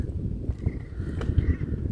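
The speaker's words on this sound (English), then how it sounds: "One solitary bird." A crow caws a few times in the distance over a low, rumbling background at Thirlmere Reservoir, the calls faint and spaced apart.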